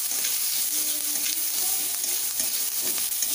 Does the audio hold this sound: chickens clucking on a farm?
no